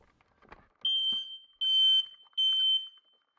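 Kidde smoke detector sounding three loud, steady high-pitched beeps of under a second each, evenly spaced, after a few soft clicks of the battery connector snapping in.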